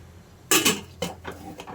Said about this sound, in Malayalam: നമുക്ക് ഈ കുക്കർ അടച്ചു വെക്കാമേ